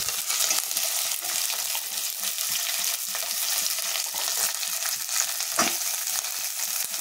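Curry leaves, green chillies, garlic and onions frying in hot oil, a steady loud sizzle with crackling pops and occasional stirring scrapes, continuous and close with no talking.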